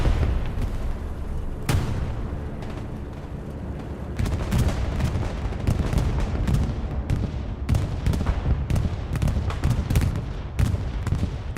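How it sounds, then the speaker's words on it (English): Bombing-run explosions in a chaotic multiplayer war game, a long loud barrage of deep booms and sharp blasts piling over one another, with a big hit early and dense rapid detonations crowding the later stretch. "Bombing run going through."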